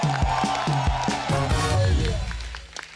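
Studio audience on The Kapil Show applauding and cheering as actor Anil Kapoor is welcomed, a loud sustained wash of clapping and crowd noise with rhythmic music beats running underneath.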